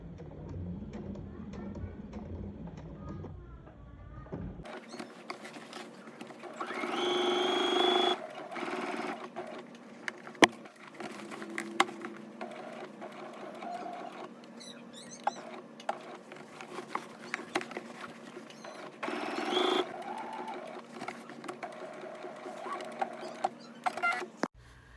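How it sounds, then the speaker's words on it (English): A sewing machine stitching fabric runs in a fast, steady mechanical patter, stopping and restarting a few times, with occasional clicks and handling sounds. "Now take it to your sewing machine, and on the wrong side of the welt, you're going to stitch"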